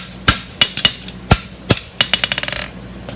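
A hammer strikes an aluminum heart bar in a run of sharp, ringing blows, several spaced hits followed by a quickening burst of lighter taps, close and loud with no talk.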